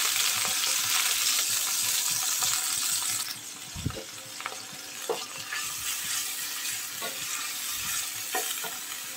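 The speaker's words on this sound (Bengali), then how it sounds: "কড়াইয়ে তেল দিয়ে দিলাম 1 টেবিল চামচ। পেঁয়াজ দিব 2টা পেঁয়াজ কুচি" Two chopped onions frying in a tablespoon of oil in a wok, a loud dense hiss at first that drops a little and settles into a steady sizzle, with a thump and several light spatula scrapes and taps.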